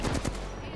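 A Sentinel rifle shot in Apex Legends, one loud sharp report at the start followed by a short echoing tail that fades over under a second.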